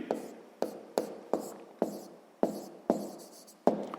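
A pen or pencil writes out a sixth-grade math solution, close scratchy strokes in a fairly regular rhythm, roughly nine sharp attacks each fading out.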